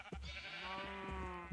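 A single sheep bleats in the Minecraft video game, one drawn-out wavering cry with a clear, close tone that holds for over a second.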